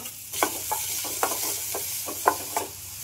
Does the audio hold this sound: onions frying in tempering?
yes